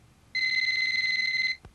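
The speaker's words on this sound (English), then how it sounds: "When your phone is ringing, it'll sound like this." A 1990s GoPhone mobile phone rings with a steady electronic tone lasting a little over a second, close and clear, ending in a brief click.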